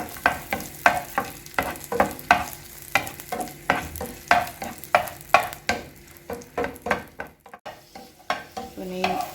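Cashews frying in ghee in a pan for pineapple kesari, rhythmic stirring scrapes repeating about every half second over a light sizzle, close and clear.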